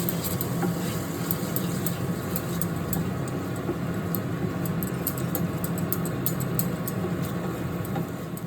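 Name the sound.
stirring ginger garlic paste frying with peas and potatoes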